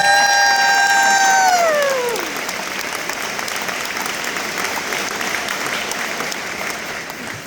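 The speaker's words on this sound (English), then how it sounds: "Give a round of applause." An audience at a school Hall of Fame induction breaks into sustained, steady applause. A gliding electronic tone fades out over the first two seconds.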